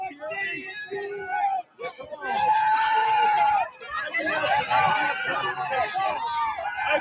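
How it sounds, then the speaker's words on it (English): A crowd shrieks and yells in loud, overlapping bursts, with a short dip partway through before the screaming surges again, mixed with excited voices and babble. "I love that screaming."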